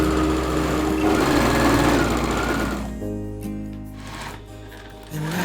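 A Juki sewing machine stitching a gathered dress skirt, a steady mechanical whirr that runs loud at first, then eases to a lighter, slower stitching hum.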